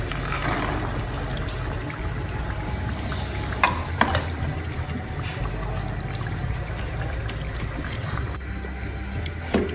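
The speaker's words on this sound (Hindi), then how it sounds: "दो मिनट के लिए हम आलू और मटर दोनों को भूनेंगे।" Potatoes and peas stir-fried with spices over a medium flame give a steady close sizzle, with intermittent scraping and clinking from a spoon stirring the pan.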